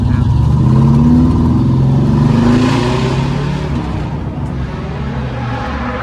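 A car at a Tempe Town Lake car meet idles, then gets a little throttle, a gentle mid-pitched rev that rises and settles into a steady engine hum, close and loud, with faint talk behind it.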